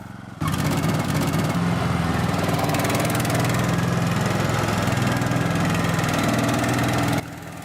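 A T-Rex slope mower's engine starts abruptly and runs at a steady, loud, throbbing idle for several seconds before cutting off, with no talking.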